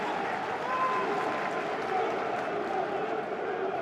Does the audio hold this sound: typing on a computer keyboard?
no